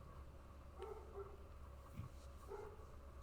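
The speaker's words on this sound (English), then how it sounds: "I cannot do anything about that barking if you can hear it" A dog barks outside a window, giving a few faint, muffled yips and barks at a distance over a low background hum.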